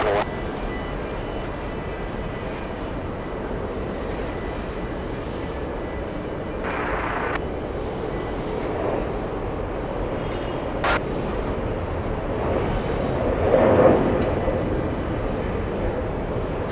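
A Delta Airbus A321neo, delivered in 2023, at JFK airport gives a steady, moderately loud jet engine roar that holds throughout and swells slightly near the end, with a few brief sharp clicks over it.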